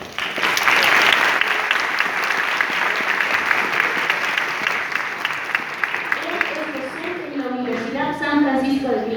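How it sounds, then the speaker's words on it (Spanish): A debate audience gives warm, sustained applause to welcome the first speaker. Dense clapping fills the room for several seconds, then a voice begins speaking as the applause carries on underneath. "Recibamos con un fuerte aplauso a nuestro primer ponente"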